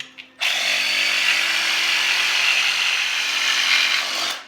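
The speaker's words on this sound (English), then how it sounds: "we're going to cut the flange off" A power tool cuts a flange off an engine part with a loud, steady, high-pitched grinding whine that runs for about four seconds before stopping, close up with no talk.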